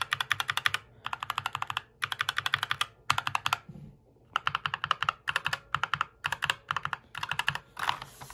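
Mechanical keyboard with stock, unlubed switches being typed on in rapid bursts of crisp, clacky keystrokes, close and clear with short pauses between runs and no talking.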